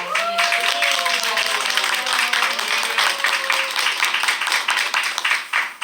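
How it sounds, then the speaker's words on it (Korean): Church congregation at a thanksgiving service applauding to welcome a pastor to the pulpit, a dense sustained clapping that fills the whole stretch, with an announcer's voice briefly heard at the start. "더 큰 박수로 목사님을"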